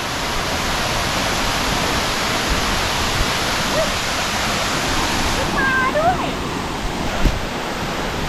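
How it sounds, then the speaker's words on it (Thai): A natural waterfall in forest roars as a loud, steady, broadband rush of falling water, with faint speech and a brief bird call barely rising above it. "เพราะว่าเป็นน้ำตก ธรรมชาติ"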